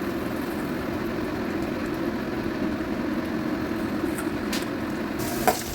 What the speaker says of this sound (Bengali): বাদ বাকি যেটা ছিল সেটাও ভেজে নিই।